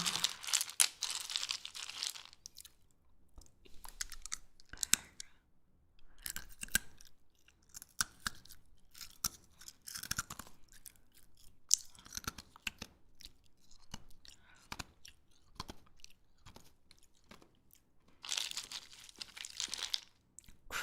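Loud, close crunchy chewing and crinkly biting in mukbang ASMR, dense bursts of crisp crunches with short pauses between, no talking.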